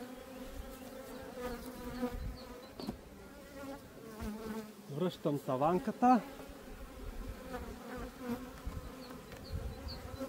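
Honey bees buzz steadily around an open hive during queen-rearing work, a dense continuous hum with louder swells close by, while a person speaks briefly over it.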